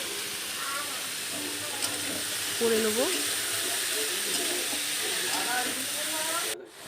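Snake gourd fries in hot oil with nigella seeds and whole green chillies, a steady close sizzling hiss that runs throughout, with occasional stirring knocks and someone speaking briefly over it.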